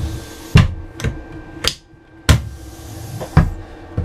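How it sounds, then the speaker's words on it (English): Table clamps being released inside a 2016 Airstream International Serenity 23FB travel trailer: five or six loud, sharp clunks and knocks spaced irregularly, close by, with no speech. "Release the clamps."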